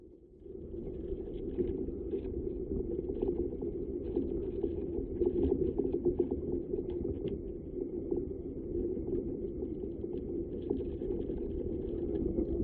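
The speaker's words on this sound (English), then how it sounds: "This is the sound of water moving inside of a tree trunk." Water moves inside a tree trunk, picked up through a stethoscope: a continuous low bubbling rumble scattered with soft clicks and pops, steady and close for the whole stretch.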